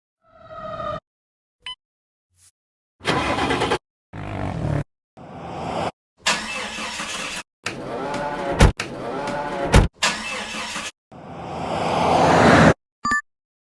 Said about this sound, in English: Sound is car drive.